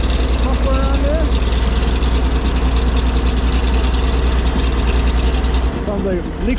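A 4x4 engine idles through a Nelson muffler with a slight exhaust leak, a steady low rumble throughout that dips near the end, with people talking over it.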